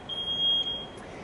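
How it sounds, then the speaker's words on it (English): Single high, piercing smoke-alarm beep from a Smart Switch HVAC sensor, sustained for under a second against a faint low hum, with a short second chirp just after. "As you notice, the alarm is going off,"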